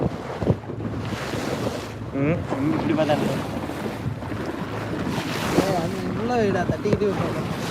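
A boat on the open sea, with steady wind buffeting the microphone and waves surging all around, while people talk and call out over the constant roar.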